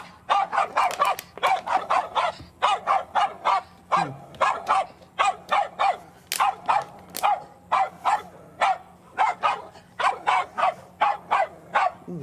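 Dog barking in quick repeated bursts, a long run of sharp barks with brief pauses and a few whimpering yips between them, close and loud, no talk over it.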